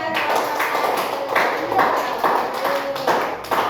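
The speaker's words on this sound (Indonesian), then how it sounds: "Ya, kasih tepuk tangan dulu" Children in a classroom clap together after a group's correct answer, a steady run of sharp claps with voices mixed in.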